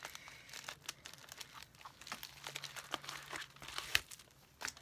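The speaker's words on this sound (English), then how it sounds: "I'm going to cut this open because I fight with this tape almost every month" Crinkling and tearing of strong packing tape on a shipping box being cut open, an irregular stream of close, fairly quiet rustles and rips.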